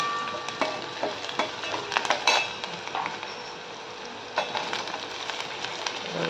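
Chopped tomatoes are stir-fried in a pan for a Malvani dried shark tikhal, with a soft steady sizzle under repeated scraping and clinks of a spatula against the metal pan, close up and with no talking.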